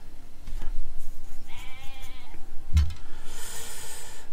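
Sheep bleat in the strategy video game Civilization V, a single clear wavering bleat mid-clip over a continuous game ambience with low rumbles and thuds, fairly loud and close.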